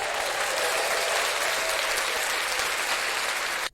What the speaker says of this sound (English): here's the applause right here